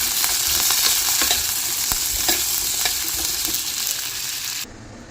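Onions and tomatoes sautéing in a pan for an anchovy fish curry: a loud, steady close sizzle with occasional stirring clicks, then it drops away abruptly near the end.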